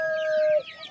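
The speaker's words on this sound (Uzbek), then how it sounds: "Mana jo'jalarimizni" Young chicks at a market stall give a high, thin tonal cheep that holds for about half a second, then fades into softer chirping and background noise.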